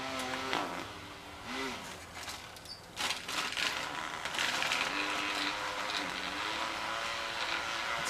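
A Briggs and Stratton small engine with a broken intake bolt runs steadily and close by, with air puffing from a leak around the carburetor. The engine drone holds through most of the stretch, with a few brief louder bursts.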